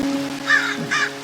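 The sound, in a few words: crows cawing in a Minecraft modpack video game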